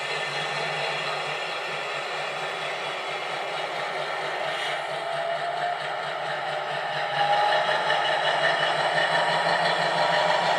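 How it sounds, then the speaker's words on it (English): A model diesel locomotive's sound unit in heavy train mode hums steadily with a buzzing, motor-like drone that rises slightly in pitch and volume partway through, as if revving up. "when we start the train off to go, it'll bring the revs up before it moves off"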